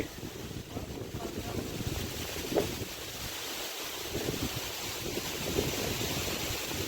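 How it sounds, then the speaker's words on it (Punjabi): Strong wind gusting across open farm fields during a storm, a steady rushing roar with buffeting bursts against the microphone, loud and continuous throughout. "ਹਵਾ ਨੇ ਤਾਂ ਨੇਰੀ ਲਿਆਂਦੀ ਪਈ ਅੱਜ ਫੁੱਲ"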